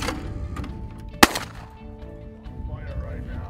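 A shotgun fires once at a clay pigeon outdoors, a single sharp loud crack midway with a short tail, over background murmur and faint voices.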